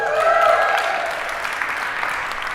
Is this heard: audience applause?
yes